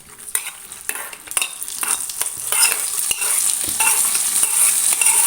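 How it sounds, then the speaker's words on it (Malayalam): Raisins sizzle loudly in hot ghee for sago payasam, a bright, steady frying hiss with repeated close spoon scrapes and stirring taps growing busier as it goes. "മുന്തിരിങ്ങ കൂടി ഇട്ട് കൊടുക്കാം നമ്മൾ പായസത്തിലേക്ക് ഒഴിച്ചു കൊടുക്കാം"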